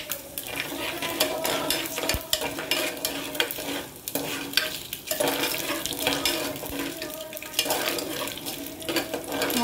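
Chana dal and mustard seeds sizzle and crackle in hot oil as a spoon stirs and scrapes the pan, making a close, continuous fry with scattered metallic clinks and no talking.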